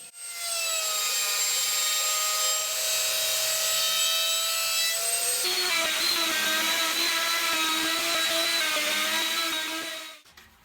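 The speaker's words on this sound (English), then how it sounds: "used a straight bit in the router" A router fitted with a straight bit cuts a recess into chipboard for a workshop outfeed table, a loud, close, high whine with a steady tone that drops in pitch midway as the bit bites, then winds down at the end.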